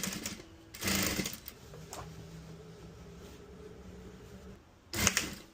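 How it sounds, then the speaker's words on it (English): A sewing machine stitches pocket bags into pants made from 1980s hunting overalls, running in two short loud bursts, one near the start and one at the end, with a quieter mechanical hum between them. "now it's time to sew in the pocket bags"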